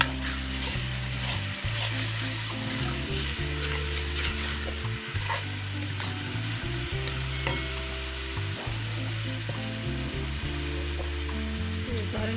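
Tomato paste sizzling in a hot pan with spices while being stirred, steady frying hiss with repeated scraping stirring strokes, close and continuous, no talk.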